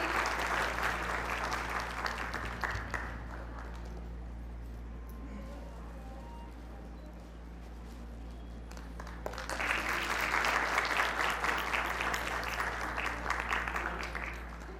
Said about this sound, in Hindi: एक बार जोरदार तालियां हो जाए हमारे कृष्णा सर के लिए।